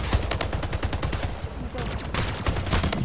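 Rapid, continuous gunfire from the arena shooter video game Splitgate, loud and close, with repeated shots rattling throughout and a brief spoken word.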